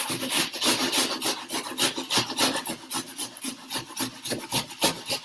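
A small onion scraped against a grater in steady back-and-forth rasping strokes, close and fairly loud with no talk.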